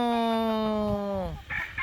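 A fighting cock crows nearby in a long, sustained call that bends downward at the end, followed by brief soft clucks.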